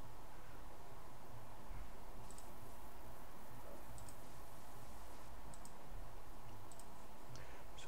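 Soft, sparse clicks scattered over a steady hiss of background noise, made while probing lines on an iPhone 12 Pro logic board with a broken coil during data-recovery repair work.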